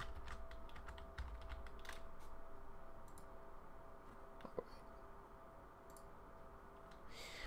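Quiet, rapid clicking of keys on a computer keyboard, irregular bursts of typing with short pauses, fairly close.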